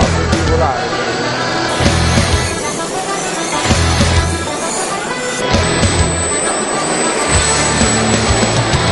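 A model aircraft flies at an indoor meeting in Caravaggio, a continuous whining motor drone that swells and fades as it passes, heard under a noisy hall with people talking.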